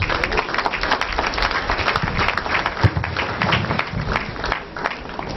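An audience at an academic investiture ceremony for professorial inaugural lecturers claps steadily after an address, a continuous room-filling round of applause with slight crowd murmur.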